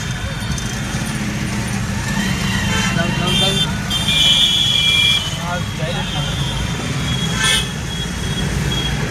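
A Parbhani traffic jam fills with repeated car and truck horn toots, some long and some short, over a constant rumble of idling engines, with muffled voices mixed in.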